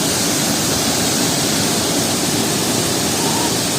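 A waterfall in Sohra roars as a dense, steady wash of falling water, loud and close, with no breaks or voices.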